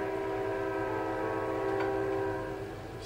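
A train horn blares in a long, steady, harmonic tone from a passing train close by, holding at a loud level before easing off slightly near the end.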